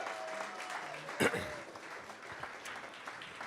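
Applause from an awards ceremony audience honoring a partner company, moderate and fairly distant, with a brief louder burst near the middle while a voice speaks over it.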